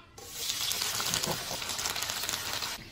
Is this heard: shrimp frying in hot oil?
yes